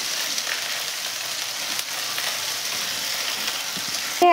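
Ginger-garlic paste fries with browned onions in a pan for a Bengali chitol fish korma, giving a steady, close hiss of sizzling that stays even throughout and ends in a brief louder clatter.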